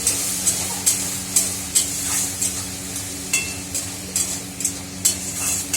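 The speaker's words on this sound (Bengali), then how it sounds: "মশলাটা বেশ কষা কষা হয়ে গেলে" Spice paste with ground coriander and mixed spices being stirred and fried in a pan, a steady close sizzle broken by regular scraping strokes of the spoon roughly twice a second, with no talk.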